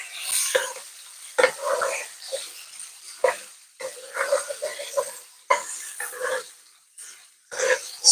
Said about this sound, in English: I'm gonna spoon that garlic flavor over your fish.